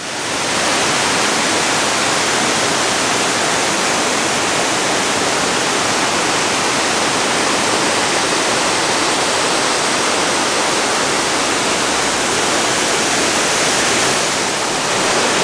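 A waterfall pours beneath a giant boulder, giving a loud, constant, broadband rush of falling water that stays even throughout and is heard close with no other sounds.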